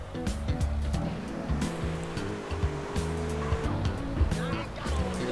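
A car drives in GTA San Andreas, its engine droning steadily throughout with game music and ambient sound layered over it.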